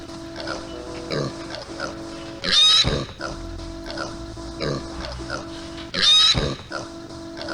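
A pig from the Warcraft Adventures video game squealing in two loud, harsh bursts several seconds apart, with people talking in between.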